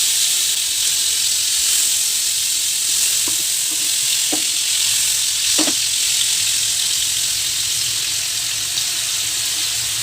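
Tandoori chicken pieces fry in a pan over a low flame with a continuous, even sizzle, broken by a few soft clicks of pieces being set down.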